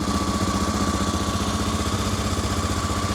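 A Honda Africa Twin motorcycle engine running on its carburetor during a first start, a steady mid-pitched idle with even rhythmic pulsing, close and constant with no talk.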